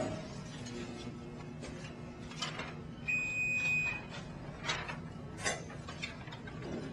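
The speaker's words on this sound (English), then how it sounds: "The back gauge will move back, find home, and then beep." A Challenge Titan 200 paper cutter's back gauge whirs and clicks mechanically as it moves home, then a single clear electronic beep sounds briefly, followed by more quiet clattering.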